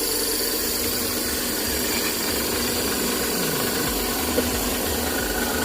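A homemade two-stroke generator engine, just rope-started, runs at a steady, close, buzzing drone with a slight rattle and no one talking over it.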